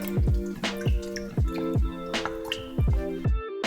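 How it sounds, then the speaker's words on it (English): A spoon stirs nutritional yeast and bouillon stock paste inside an Instant Pot, making repeated wet squelching, dripping-like pulses in a steady rhythm, close and fairly loud with no talking. "Now we'll give it a mix through."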